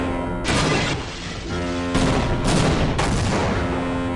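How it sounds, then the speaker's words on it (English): Enemy gunfire in the Half-Life video game, set in space, comes as loud close bursts of shots separated by brief pauses, with no talk. "They're already trying to shoot at me."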